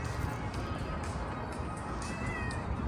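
A cat meows faintly outdoors against steady, loud broadband background noise, with a few brief high tonal calls as the cat is approached to be fed.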